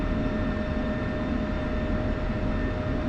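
An F-16 fighter jet engine in a flight simulator game over Syria: a steady, continuous roar with a thin whine on top, loud and unbroken throughout.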